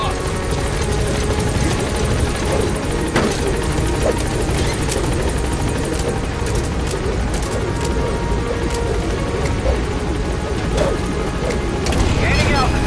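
Helicopter from Metal Gear Solid V climbing in altitude, a loud, steady rotor thrum and engine whine that fills the whole scene without pause.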